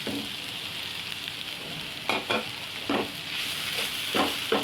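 Chilli, turmeric, cumin powder and chaat masala get stir-fried with vegetables and potato in a pan, a soft steady sizzle punctuated by several scraping stirs that come in uneven bursts.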